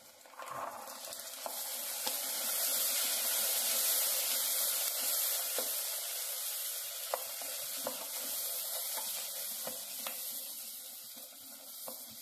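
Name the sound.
fresh green peas frying in oil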